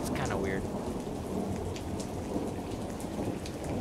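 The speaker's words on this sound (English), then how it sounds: "You'd think the rain would stop eventually, but it doesn't." Rain and thunder in the Roblox game Identity Fraud 2: a steady, dense downpour hisses continuously while low thunder rumbles beneath, fairly quiet overall and with no voices.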